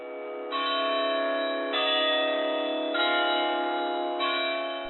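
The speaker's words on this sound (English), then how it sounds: "the bells of the clock tower, which up until this point had been silent, began to ring" Clock tower bells ring out in a slow sequence of four or five sustained, overlapping tolls, each strike blooming into a long resonant hum that carries steadily without any talking.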